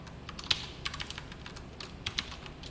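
Python code typed on a computer keyboard, a close run of irregular light key clicks with a few sharper taps and no talk.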